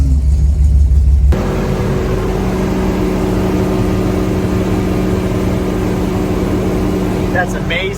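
A repaired van engine runs steadily after a brief start, a loud, continuous mid-pitched hum with a low drone, heard close up and alone for several seconds.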